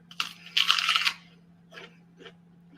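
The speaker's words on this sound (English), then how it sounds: "Oh, that's a lot of crunching, loud crunching" Loud, close crunching from someone eating Brussels sprouts slaw, one long burst of chewing followed by two shorter, quieter bites, with a low steady hum underneath.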